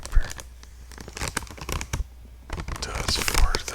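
A toilet paper roll crinkles and rustles in close-up crackling bursts, with faint finger scratching and quiet whispered talk mixed in.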